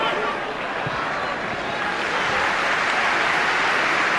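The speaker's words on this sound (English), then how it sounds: "the applause you can hear is the Everton fans who are delighted with what they're seeing here this afternoon" Everton fans applaud in a large stadium during a Premier League away match at Derby County, a broad continuous wash of distant crowd clapping and murmur that holds steady throughout.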